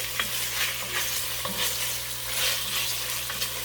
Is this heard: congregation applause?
no